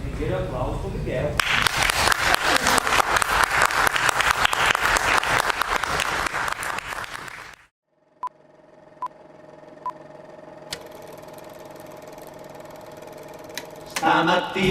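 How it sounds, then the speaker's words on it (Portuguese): A seminar audience on theatre and revolution breaks into loud, dense applause for a participant, sustained for several seconds before cutting off abruptly, followed by quiet sparse electronic beeps over a low steady hum. "Primeiro aplauso para o Miguel"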